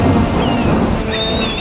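Rain and rumbling thunder from a storm as dark clouds gather, a steady loud wash of rainfall with low rolling rumble throughout, heard alone without voices.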